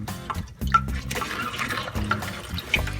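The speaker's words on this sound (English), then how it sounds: "Time is up, and I'm now rinsing the dye out of the cloth." Cold water runs and splashes continuously from a tap while dyed cloth is sloshed and wrung beneath it, rinsing out the dye, with irregular watery gurgles.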